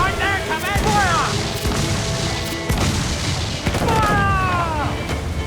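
Ship cannons fire in Assassin's Creed IV Black Flag. Booming shots come at intervals over loud sea battle noise and shouting voices.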